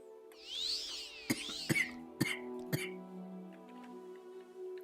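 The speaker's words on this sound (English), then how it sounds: "This damn cough." Several short, harsh coughs, about four in quick succession, from a person playing The Elder Scrolls III: Morrowind, heard close over soft, steady game music.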